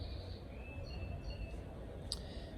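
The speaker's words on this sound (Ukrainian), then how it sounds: "Пташки, до речі, доволі гарно співають." Faint, scattered bird chirps and short whistled notes heard from an apartment balcony in Albania, over a steady low rumble of background noise, somewhat distant.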